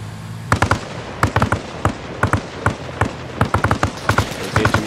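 An AI-controlled turret in the Arma Reforger video game fires in quick bursts of sharp gunshots, several short volleys spaced irregularly across a few seconds, loud and close over faint background noise.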